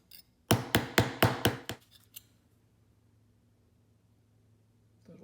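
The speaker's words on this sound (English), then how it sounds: "I'm going to take the ball peen hammer now" Five or six quick metallic taps from a ball peen hammer knock out small dents on a vintage ball bearing part, evenly spaced and close, then fading to near silence.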